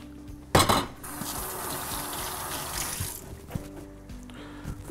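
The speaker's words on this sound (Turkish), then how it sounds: "Elimi yıkayayım" Running tap water splashes over hands at a kitchen sink, beginning with a loud gush and settling into a steady hiss for a few seconds before cutting off, near and alone without speech.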